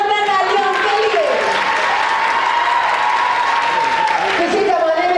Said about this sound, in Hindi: है, जोरदार तालियां उसके लिए।